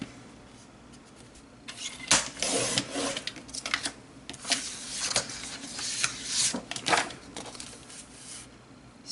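A paper trimmer slicing letter-size paper, heard as a series of close, scraping swipes and rustling bursts of the blade running along the sheet, uneven in rhythm, with no talk.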